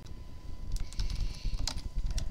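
Quick, uneven keystrokes on a computer keyboard, close and moderately quiet, clattering in short clusters with no one speaking.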